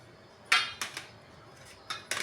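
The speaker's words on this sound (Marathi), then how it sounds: "हे सर्व मिश्रणात आपण हे मिक्स करून घेऊया" A spoon or spatula clinking and scraping against a pan while ground fresh coconut, spices, salt and tamarind are mixed, several sharp metallic knocks in quick succession, close and without speech.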